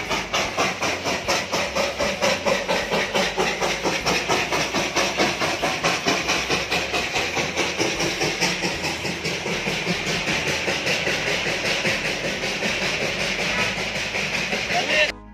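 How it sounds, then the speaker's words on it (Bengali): The Darjeeling toy train passing at Batasia Loop, its steam engine chuffing in a fast, steady rhythm with loud hiss, close by and sustained for the whole pass. "দেখে নিলে টয় ট্রেন গেল।"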